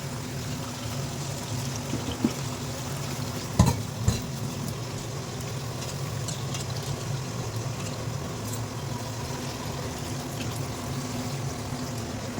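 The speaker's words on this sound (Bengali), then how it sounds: "আর এই বেগুন ভাজাটাও হতে থাকুক" Eggplant slices frying in a pan in a home kitchen, giving a steady, even sizzle and hiss throughout, with a couple of brief knocks partway through.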